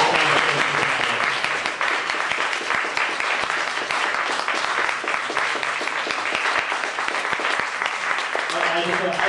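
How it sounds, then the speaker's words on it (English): A bar crowd applauds two panel speakers after a talk on fertility, steady dense clapping mixed with voices and chatter, loud and close throughout. "I want to give these two just a big round of applause for having this conversation"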